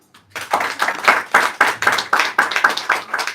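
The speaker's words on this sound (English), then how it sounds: "Another round of applause for the director." A crowd at a bank gathering gives the director a round of rhythmic applause: sharp, evenly spaced claps landing in a quick, regular beat, loud and close, with a brief quiet moment before it begins.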